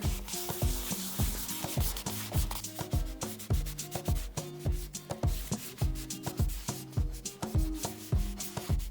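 A cloth rubs finish onto a small wood bowl spinning on a lathe, a steady rhythmic friction with repeating pulses over the lathe's hum, close and continuous.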